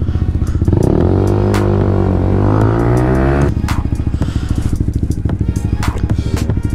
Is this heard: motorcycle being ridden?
yes